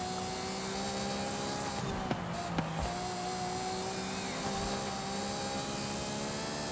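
Ferrari 812 Superfast V12 racing in Forza Horizon 5, a steady, loud sustained engine drone holding pitch at speed with a couple of brief clicks of a gear change mid-run.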